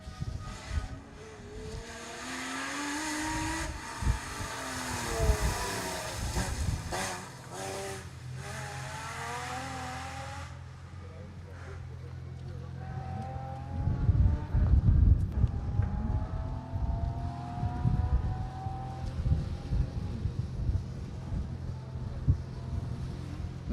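Rally car driven hard on an asphalt stage road at East Riding Stages in the UK asphalt rally championship, its engine screaming past with rising and falling revs, then fading into wind noise before another burst of rough, close running.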